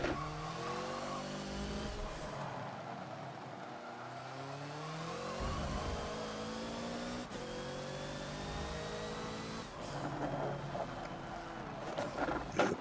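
A Hoonigan Ford Focus laps the Yas Marina South track in the Forza video game, its engine whining and revving through rising and falling gear shifts with occasional tyre squeal, steady and loud throughout.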